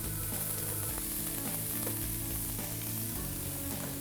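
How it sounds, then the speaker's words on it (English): Green and red peppers frying in a pan, a loud, steady close sizzle that continues without a break and with no talking. "Yeah, we'll throw those green peppers, got red peppers. All right, fry it up."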